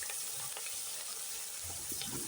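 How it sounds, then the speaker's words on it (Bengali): Hilsa fish pieces frying in hot oil in a wok, a faint steady sizzling hiss with a few light bubbling pops, quiet and uninterrupted. "কড়াইতে তেল গরম হয়ে গেছিলো দেখো সুন্দর আমি এখন মাছটা দিয়ে দিলাম"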